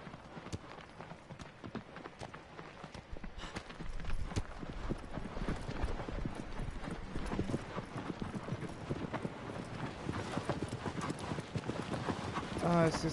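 Horse hooves gallop in a fast, steady clip-clop through the Shadow of the Colossus remake, under continuous game sound, with someone talking over it.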